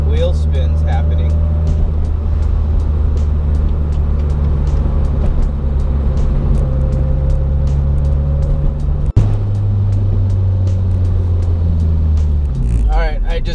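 A turbocharged Toyota MR2 on an updated tune and fitted with turbo noses pulls hard from inside the cabin, a loud steady engine drone that shifts pitch near the end.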